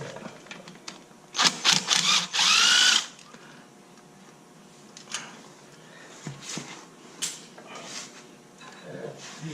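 A power tool spins out bolts from the cover of a Victory Cross Country 106 motorcycle, with a few short loud whirring bursts early on, then quieter clicks, clinks and handling noises of loose parts nearby.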